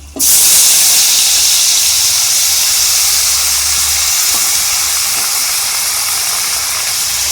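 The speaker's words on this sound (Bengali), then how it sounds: "জল দিয়ে মশলাটা ভালো করে কষে নেব" Water poured into a spice paste frying in a pan, for a hilsa fish and brinjal curry: a sudden loud burst of steam and hiss right up close, settling into a sustained, slowly fading sizzle.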